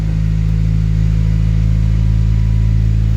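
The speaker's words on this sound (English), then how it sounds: "Let's see if the Honda starts." A Honda car engine running after starting, a loud, steady low idle hum close to the microphone with no talk.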